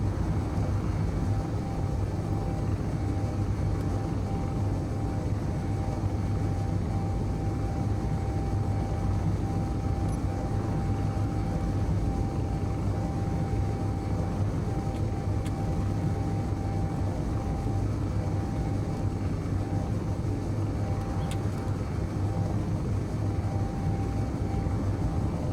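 Continuous low droning roar of transport ship thrusters in Space Engineers, steady and unbroken throughout with a constant hum and no voices.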